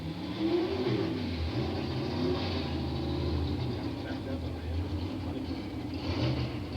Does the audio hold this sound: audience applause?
no